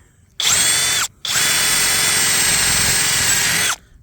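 A power drill with a Forstner bit whirs loudly up close, biting into wet wood of a live tree in a short burst, a brief pause, then a longer steady run before stopping.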